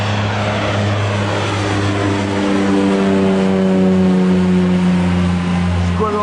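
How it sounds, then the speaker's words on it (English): Two light aircraft, one a Cessna Grand Caravan, take off toward each other on the same runway at the Durban Virginia airshow, with a loud, steady propeller and engine drone that builds gradually and pitches up near the end. "both aircraft are taking off towards each other on the same runway"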